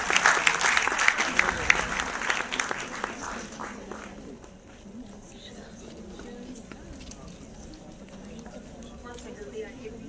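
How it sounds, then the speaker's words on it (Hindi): Loud, dense applause from an audience honoring women employees at an International Women's Day event with the women's commission chair. It swells at the start, then thins and fades within a few seconds as a voice continues over light crowd noise. "जोरदार तालियां हमारी महिला कर्मचारियों के लिए।"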